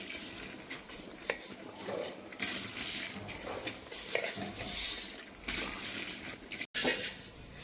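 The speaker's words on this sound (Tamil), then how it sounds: "ஸோ அந்த அரிசியை நம்ம ஆட் பண்ணிப்போம்" Washed, drained rice is added to a pot of chicken biryani, with wet pouring and rustling, light clinks and scrapes against the pot and a brief clatter. It is close and fairly soft, with no speech.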